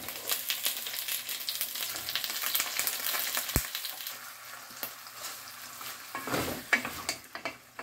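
Pork spare ribs sauté in a hot pan with a steady, close crackling sizzle and occasional sharper pops and stirring scrapes.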